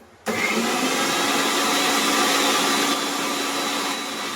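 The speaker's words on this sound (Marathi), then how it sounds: "पालक आहे मस्तपैकी मिक्सरला लावून घेतलेले" An electric kitchen mixer grinds cooked spinach into a paste for green masala chicken, kicking in abruptly and whirring loud and steady, with a slight drop in pitch near the end.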